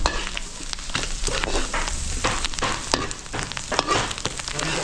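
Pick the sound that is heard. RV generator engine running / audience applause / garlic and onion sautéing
garlic and onion sautéing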